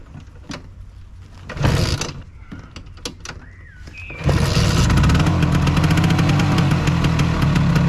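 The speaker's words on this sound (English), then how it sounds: "Finally, a short engine test, just to see if it still works fine." A few clicks and clunks, then a Vespa PX 200 scooter engine starts and idles loudly and steadily, close by, with a rough buzzing putter.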